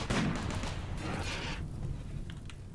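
Turrets firing in the Rimworld colony game: a dense rumble of gunfire and impacts, fairly loud and continuous, with a few sharper cracks toward the end and no voices.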